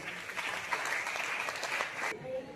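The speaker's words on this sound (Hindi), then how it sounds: "जोरदार ताली अपने लिए।" An audience at a gathering of jeevika women members bursts into strong, continuous applause with a crowd murmur in it, then cuts off abruptly near the end.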